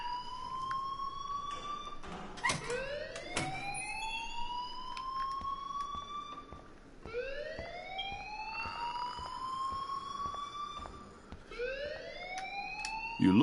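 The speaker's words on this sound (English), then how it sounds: "please turn off that alarm since that's your job" A fire alarm in the game Life is Strange wails in repeated rising electronic sweeps, each climbing in pitch and starting again every few seconds, loud and steady with no voices over it.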